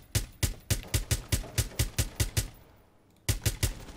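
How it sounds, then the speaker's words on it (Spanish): Rapid automatic gunfire from Frost's weapon in Rainbow Six Siege, a fast steady burst of about a dozen loud shots, a brief pause, then another short burst, with no talk over it. "qué chulo como suena, tío, esta arma"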